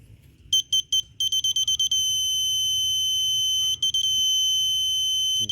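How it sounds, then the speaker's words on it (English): A torque wrench gives rapid high-pitched electronic beeps in bursts, a short pause, then a long steady tone, with faint low rumble underneath, while tightening spark plugs on a Kia Forte. "tighten it till I see that green light and hear that beep"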